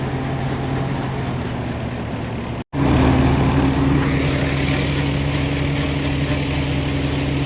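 A Shree Ghanshyam thresher runs steadily on green groundnuts, a loud continuous engine drone with a brief cutout near the middle before resuming at full strength.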